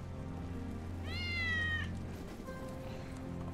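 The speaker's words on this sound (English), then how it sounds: "Hear that? Wedge's cat? That's Wedge's cat." A cat meows once in the Final Fantasy VII Remake video game, a clear rising-and-falling call heard alone over a low steady game ambience, followed by a fainter second sound.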